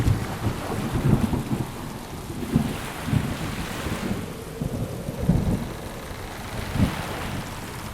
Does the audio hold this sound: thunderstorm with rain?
yes